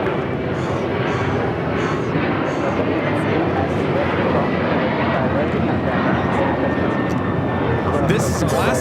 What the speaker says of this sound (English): got that Air China Cargo Queen already rolling it down the 25 left